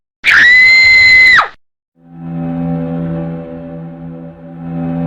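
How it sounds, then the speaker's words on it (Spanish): A loud, piercing scream rings out alone for about a second, then after a short pause a steady sustained tone hums underneath. "se escucha un grito"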